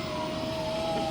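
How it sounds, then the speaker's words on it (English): Emergency vehicle sirens sound through the city, a steady sustained wail heard at moderate distance over the background hum of traffic, with no talking. "Sirens screaming through the city"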